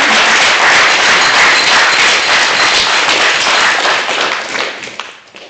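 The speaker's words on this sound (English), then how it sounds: "Go have a round of applause." Wedding guests in a reception room applaud the bridesmaids during a best man's speech: dense, steady clapping from many hands, loud and continuous, gradually thinning and fading at the end, with no voices over it.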